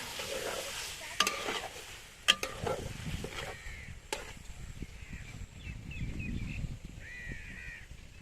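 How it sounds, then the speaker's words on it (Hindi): Chickpeas roasting in a pan for chana pulao give a steady close sizzle and frying hiss, with sharp spoon stirs and scrapes against the metal scattered through. "चने शामिल करने के बाद तकरीबन 6 से 7 मिनट के लिए चनों को भून लेंगे।"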